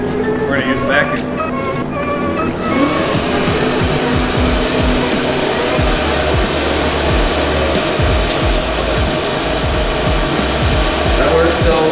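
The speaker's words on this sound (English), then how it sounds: "We're gonna use the vacuum." Vacuum cleaner running steadily and loud while sucking powder off restored Japanese wheel faces, a continuous broadband whoosh with a quieter start in the first seconds; shuffling handling noises mixed in.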